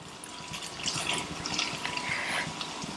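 Wet sloshing and squishing as tamarind pulp is kneaded and dissolved by hand in a small amount of water, continuous and close.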